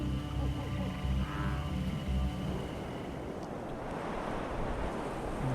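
Steady rushing roar of a raging waterfall in the video game Myst 4 Revelation, broad and continuous throughout with a deep low rumble, alone with no talk.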